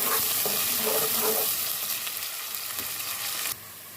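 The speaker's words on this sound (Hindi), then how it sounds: "इसके साथ ही प्याज ऐड कर देंगे। प्याज को सौटे कर लेंगे।" Onions sautéing in a pan for keema matar, a steady close sizzle with stirring scrapes, continuous until it abruptly drops in level near the end.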